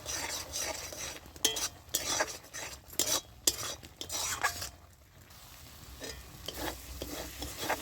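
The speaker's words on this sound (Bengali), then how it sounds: "রসুনের কোয়াগুলো আমি দিয়ে দিচ্ছি এবার" Garlic cloves drop into well-fried spice masala for a jackfruit and egg curry, giving a steady close sizzle broken by sharp clinks and scrapes of a spoon stirring against the pan.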